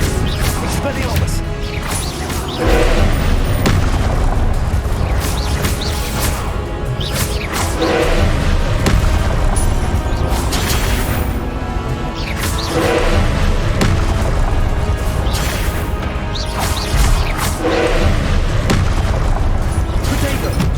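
Confringo spell explosions in Hogwarts Legacy, loud repeated booms and crashes layered over dense combat noise and game music, with a voice shouting spell names throughout.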